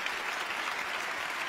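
An audience at a Quran recitation competition applauds, a steady, dense burst of clapping from many hands heard up close with no talk over it.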